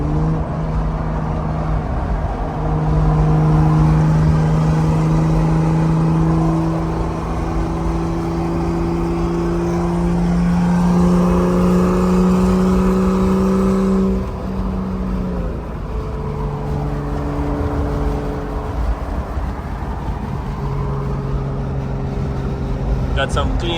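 Turbocharged BMW 535i engine pulling hard while driving, a steady loud drone rising in pitch over two long accelerations with a brief drop between, heard from inside the car with voices faintly present.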